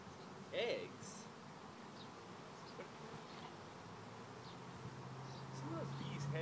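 Honey bees buzz close by in a dense, droning hum during a hive inspection, with a few louder individual buzzes passing near.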